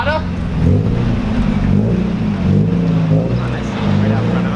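A Mazda Miata drives past with a steady engine drone and broadband road noise, fairly loud and close, while people talk over it in an excited tone.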